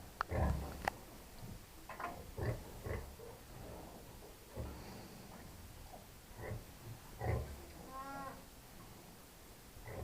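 Newborn piglets suckle from their mother sow, giving soft, scattered grunts and oinks at low volume against a quiet barn background.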